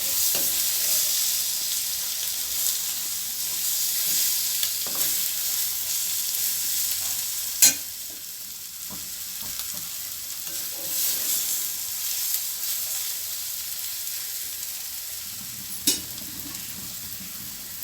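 Egg, tomato and masala frying in a pan for egg rice, giving a steady close sizzle throughout, with occasional stirring and two sharp clinks of a utensil against the pan.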